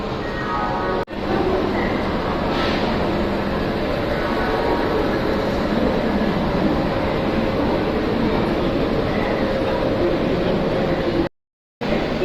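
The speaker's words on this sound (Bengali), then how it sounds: "এই ট্রেনটা যাওয়ার পরে তারপরে আমাদের ট্রেন আসবে" A train rumbles past loudly and steadily through a station for several seconds, a continuous roar of wheels and carriages with a brief cut near the end.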